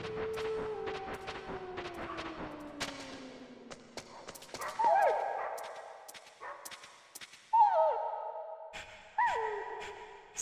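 Dogs bark in the PlayStation game Metal Gear Solid: Integral. A falling electronic tone plays first, then three sharp, fairly loud barking bursts ring out at spaced intervals against a quiet game background.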